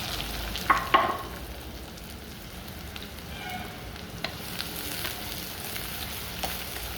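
Chopped onions sautéing in hot oil, a soft, steady frying sizzle with a couple of sharp clinks of a spoon against the pan near the start, no voices.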